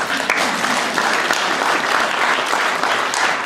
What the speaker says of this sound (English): yes, clap